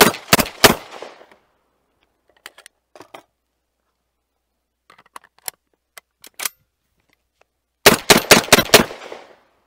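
Black Aces Tactical Core 12 shotgun firing Sterling slugs: a loud rapid burst of three close shots, scattered lighter clicks and clacks of handling, then a fast string of five sharp blasts at the end.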